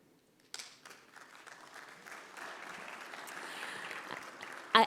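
Conference plenary audience starts clapping after a brief silence, a thin, scattered applause that gradually fills out and stays moderate, with a sharp louder clap near the end.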